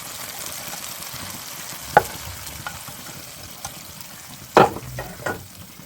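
Ghee-fried nuts poured into a pot of simmering rice and moong dal kheer, giving two sharp sizzling bursts over a soft, steady bubbling and stirring background.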